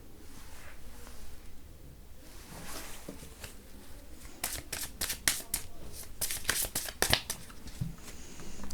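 Tarot cards are shuffled and drawn, a soft papery rustle that builds into a run of quick crisp flicks and snaps, close and fairly quiet.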